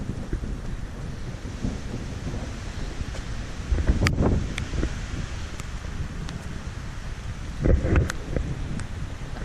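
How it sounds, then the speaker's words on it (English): Wind buffets the microphone as a mountain thunderstorm begins in Utah, with a constant rushing roar and two heavier gust swells. "We are now experiencing a mountain thunderstorm, just starting,"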